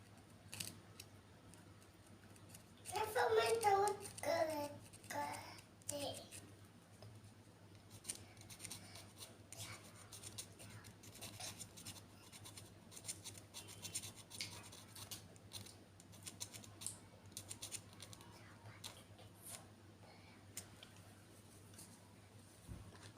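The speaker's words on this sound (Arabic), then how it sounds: "نبتدي نخدش الظهر بتاعه" The back of a small decorative stone is scratched up close, a dense burst of gritty scraping followed by sparser, lighter scrapes and taps, quiet and with no talking.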